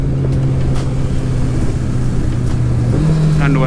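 Yamaha R1 sport bike with a TOCE full exhaust system running steadily near the microphone, its engine tone holding a low drone then shifting pitch near the end as it changes gear.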